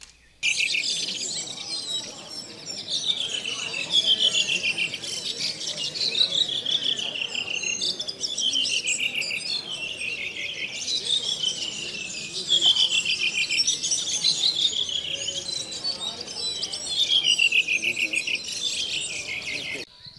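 Songbirds singing during a morning song contest at the Sagra degli Uccelli bird festival in Casnigo, with dense, continuous chirping and repeated trilled phrases from several birds, fairly close and loud throughout.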